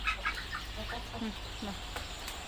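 Chickens cluck softly at a short distance, a few brief calls scattered over a low steady rumble, with faint background voices.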